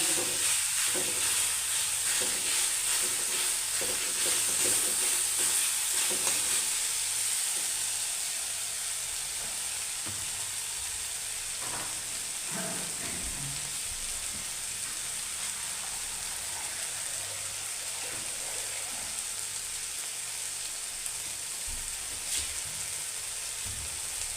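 Tomatoes frying in a pan for Punjabi-style aloo matar: a steady, close sizzle with occasional stirring scrapes, louder at first and then settling into a softer hiss, with no talking.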